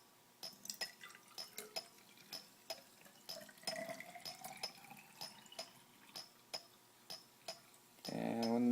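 Club soda trickles into a graduated cylinder in a lab, with a series of sharp drips and small fizzy ticks at an irregular rhythm, close and quiet, ending in a brief louder pour.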